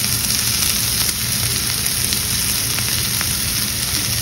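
Onions with salt frying in oil, a loud steady crackling sizzle close by with a few faint stir clicks, no voices over it.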